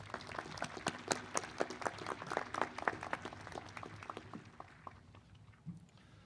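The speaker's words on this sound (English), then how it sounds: "Please join me in acknowledging the faculty's achievements with a round of applause." A college commencement audience applauds for the faculty, lively crowd clapping that peaks early and then thins out and fades near the end.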